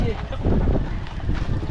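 Strong wind buffets the microphone outdoors with a steady, loud roar, while people talk over it.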